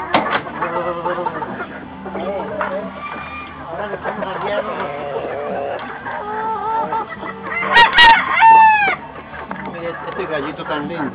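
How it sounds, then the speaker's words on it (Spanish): Chickens cluck and squawk close by while a rooster lets out a loud crow partway through, with people talking among the birds throughout. "Este gallito tan lindo"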